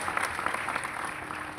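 An audience at a devotional kirtan discourse claps steadily throughout, a dense, even patter of many hands at moderate distance with no speech over it.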